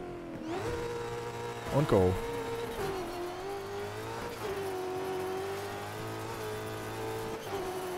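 A racing car engine in the PC game Colin McRae: DiRT 2 drones steadily with rising and falling pitch, revving up sharply a few times, while a voice speaks briefly over it.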